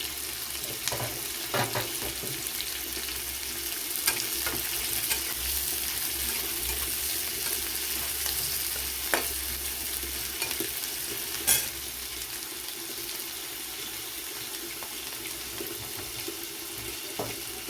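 Ginger sizzles and fries in a home-kitchen pan, a constant hissing crackle punctuated by occasional scraping stirs and clinks, steady and close throughout.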